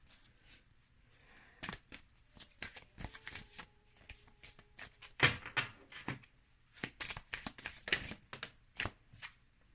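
Tarot cards being shuffled and drawn during a reading, giving a run of crisp riffling flicks and soft slaps at an uneven pace, close and fairly quiet with brief pauses between bursts.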